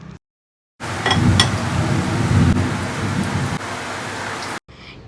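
Heavy rain pours down in a dense, loud, continuous hiss for several seconds with no voices, starting and stopping abruptly.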